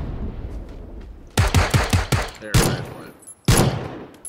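Gunfire in PLAYERUNKNOWN'S BATTLEGROUNDS: a rapid burst of several close, loud shots, then two single sharp reports a second apart, with a player's voice briefly heard.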